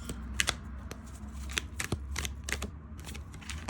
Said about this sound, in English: See how this shuffles